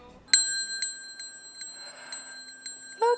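A small bell from a Christmas movie scene rings in a series of bright, clear strikes at an irregular steady rhythm, each chime ringing out with a long sustained tone, close and distinct with nothing else around it.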